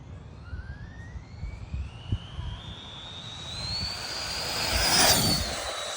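Traxxas Bandit RC car tuned with tall gearing for top speed races past outdoors, a rising high-pitched whine that swells as it nears and peaks loud before fading, over steady wind-like background noise.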